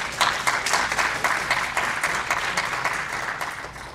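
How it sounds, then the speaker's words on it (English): An audience at a breakfast panel gives a round of applause, a steady wash of many hands clapping at moderate level, evenly sustained for several seconds. "I want to hear a louder round of applause."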